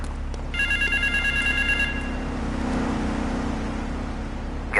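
Telephone ringing inside the Grand Theft Auto 3 video game, a clear repeated electronic ring pulsing for about a second and a half over steady low vehicle engine rumble and ambient game noise.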